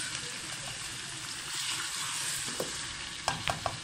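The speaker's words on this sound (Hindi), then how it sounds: "चिकन को हमने अदरक लहसुन के साथ ही भूनना है" Chicken sears in a pan with ginger and garlic for a deghi korma, a dense continuous sizzle close by, with a few sharp spoon scrapes and knocks toward the end.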